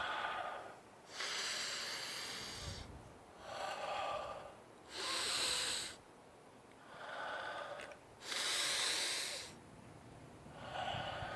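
Slow, deep breaths during a meditation session, each long inhale and exhale drawn audibly through the nose in a steady rhythm, close and alone with no talk.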